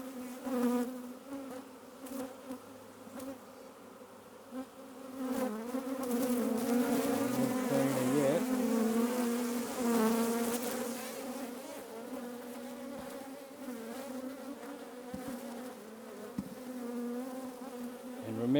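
Honeybees swarm and drone around an open hive frame in a city backyard, a continuous layered buzz that rises and thickens midway, close and steady with no talk.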